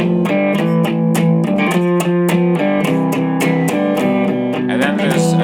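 A riff is played on acoustic guitar through a saturation pedal, giving a driving, rapidly strummed pattern of steady chordal hits, loud and close, with no talking.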